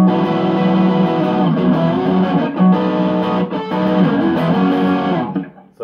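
Sustained low-gain electric guitar notes and chords with mild gritty distortion and chorus shimmer, played loud and close, fading out at the end.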